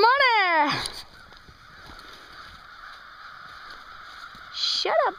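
Canada geese honking loudly near a toboggan run at Canada's Wonderland, a burst of overlapping calls at the start and another brief honk at the end, with quiet outdoor background between.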